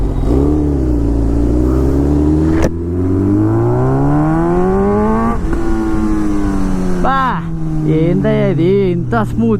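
A Suzuki GSX-R1000 superbike engine revving hard nearby, with long rising and falling throttle sweeps and then quick sharp blips toward the end, loud throughout.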